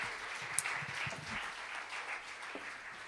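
Faint, distant clapping from a Czech stage show audience, continuous and fairly even, with a brief sharp peak near the start.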